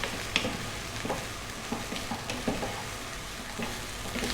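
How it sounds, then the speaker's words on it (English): Onions and ginger stir-fry over high heat for an Asian vegetable dish, giving a soft continuous sizzle broken by light, irregular stirring taps and scrapes, fairly faint. "We're going to flip this around for about another 3 minutes. Again, high heat, stirring pretty much all of the time."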